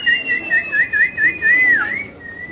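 A single sharp, wavering whistle rises from the crowd at a Mrs. India beauty pageant, warbling in quick repeated trills before settling into a steady tone. It is loud and close, with no talk over it.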